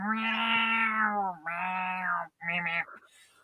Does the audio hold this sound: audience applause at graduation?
no